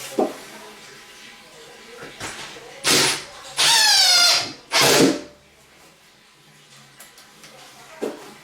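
Power drill driving screws into a shower pan, three short loud whirring bursts, the middle one squealing and rising in pitch, separated by quiet gaps with faint clicks and handling noise.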